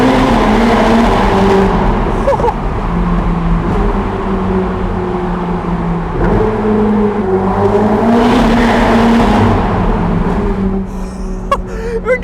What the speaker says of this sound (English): full throttle, it really kicks you into the next gear